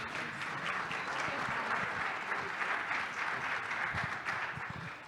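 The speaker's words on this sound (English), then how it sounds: "one more round of applause" Sustained applause from a conference audience, a dense, even wash of many hands clapping at moderate volume, with a few voices faintly mixed in, lasting throughout.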